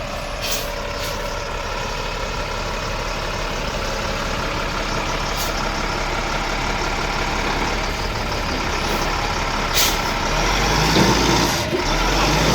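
A 2.5-ton military truck spins its 53-inch tires, a loud, steady engine roar with broadband grinding and rumble holding throughout, brief airy hisses breaking through now and then.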